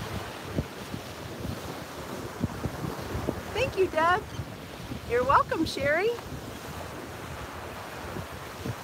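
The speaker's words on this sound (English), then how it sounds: "I love the rough water today too" Wind buffets the microphone on a beach as rough sea surf churns steadily in the background, while people talk briefly over the noise.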